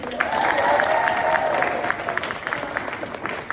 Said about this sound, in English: One more round of applause for Gina.